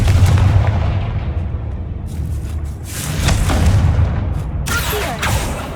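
Confringo blasting spells going off in Hogwarts Legacy, a series of heavy booming explosive bursts with crackling tails, loud and close, separated by short gaps.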